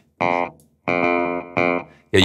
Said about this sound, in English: you've got a nice delay and a distortion